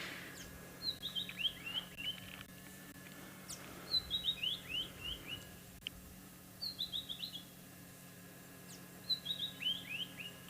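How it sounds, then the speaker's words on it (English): Birds call on an afternoon safari in the South African bush, a repeated short descending chirping phrase sounding four times at intervals over a faint steady background hum, fairly distant, with no voices. "So you can hear a lot of birds are out already."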